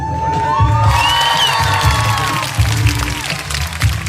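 A church crowd cheers and applauds loudly to welcome a panel speaker, with whoops and shouting over a broad, sustained wash of clapping while a voice speaks over it.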